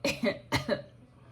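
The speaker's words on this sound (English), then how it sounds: "And I just coughed at you like I used to." Two quick pairs of coughs, close and fairly loud, with a short pause between the pairs, then quiet.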